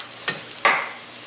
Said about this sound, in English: 2 teaspoons of olive oil, and we go ahead and throw that eggplant in.